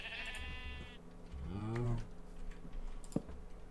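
Minecraft sheep bleating: one wavering, mid-loud bleat rising and falling, with a high tone and soft keyboard clicks around it and a sharp tap near the end.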